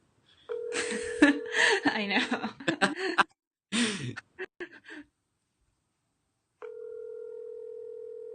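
A telephone tone sounds under laughing, chatty voices, then after a brief silence a steady dial tone returns alone while a call is being placed.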